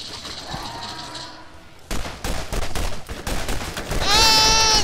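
Rapid bursts of gunfire from the video game Borderlands crackle in close, sharp volleys, with bleating creature cries and synth tones mixed in during a fight against pet skags.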